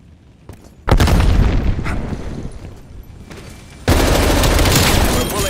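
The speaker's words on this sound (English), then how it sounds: "Frag out." A frag grenade goes off in Call of Duty: Black Ops Cold War during a team deathmatch, with two loud, abrupt blasts and sustained rumbling in between. Scattered gunfire stays close and heavy throughout.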